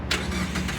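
A 1.5 litre SkyActiv engine in a Mazda MX-5 starts up, a short crank burst settling into a steady mid-pitched idle, close and fairly quiet, with no talking.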